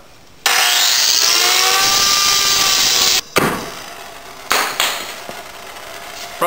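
Electric chainsaw carving a foam block for sculpture: a loud, sustained whine for about three seconds, a brief cutoff, then several shorter revving bursts as the blade bites in again.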